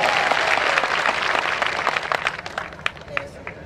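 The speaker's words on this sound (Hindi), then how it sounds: "इनके लिए एक जोरदार ताली बजाइए।" Crowd applause at a Shiv Sena stage show in Thane, a dense burst of clapping that gradually thins out, with a few sharp, louder claps standing out toward the end.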